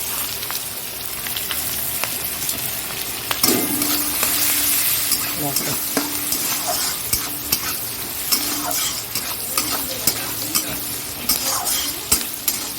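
Chopped onion and green chilli sizzle loudly in oil left from frying a hilsa fish head, with a steady hiss of frying close by. A spatula scrapes and taps against the pan now and then.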